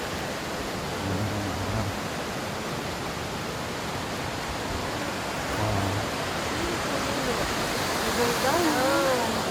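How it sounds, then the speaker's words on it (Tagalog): A forest river in Ilocos rushes along as a steady, full, hissing flow of water, with faint voices talking in the background. "Ganda ng ilog nila, oh."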